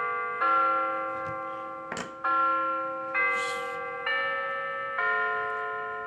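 A wireless doorbell, just fitted with fresh batteries, rings out a series of about five bright, sustained electronic chime tones in steady succession, each note ringing on and overlapping the next, close and clear with no talk.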